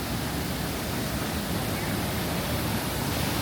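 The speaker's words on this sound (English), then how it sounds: "The little waterfall" A small waterfall in Jamaica's Blue Mountains pours with a dense, steady broadband rush, close and loud, unbroken for the whole stretch with no voices over it.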